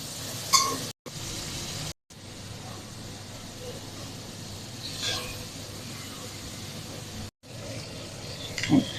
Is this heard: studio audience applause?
no